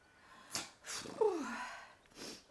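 A single sharp sneeze bursts out between quick breaths, close and loud, with a short nasal sniff before it and a breathy exhale after.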